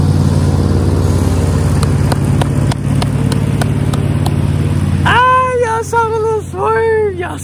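A riding lawn mower cuts grass on church property, its engine a steady, droning hum for several seconds, then a person starts talking over the quieter engine near the end.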